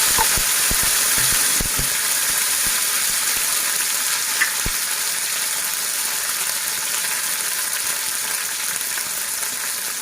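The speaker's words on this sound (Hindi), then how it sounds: "जीरा डालने के बाद हरी लहसुन और इसका फ्लेम मैंने स्लो पे रखा है।" Cumin and green garlic fry over a low flame in a pan, a steady close hiss of sizzling oil with a few faint clinks of stirring early on.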